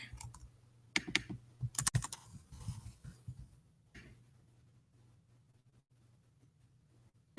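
Rapid typing on a computer keyboard, clustered bursts of key clicks in the first few seconds, then sparse taps before it goes nearly quiet over a steady low hum.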